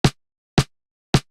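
Three short, dry snare clicks at an even pace, each tight and clipped with almost no ring, separated by silence.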